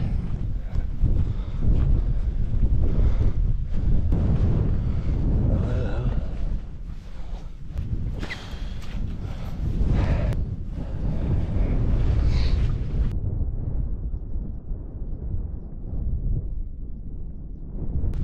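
Strong wind gusting across a mountain campsite, a loud continuous roaring buffeting of the microphone that rises and falls before easing off near the end.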